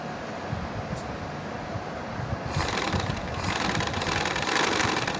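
Sewing machine stitching through buckram and fabric, a steady mechanical whir that picks up and grows louder partway through, running continuously with no talking.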